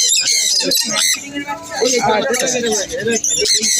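Pineapple conures at a busy bird market squawk in sharp, shrill bursts close by, mixed with chirps from other caged exotic birds while people talk over them.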